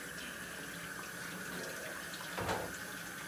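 Tap water runs steadily into a kitchen sink while Brussels sprouts are rinsed, a constant hiss with a brief louder splash near the end.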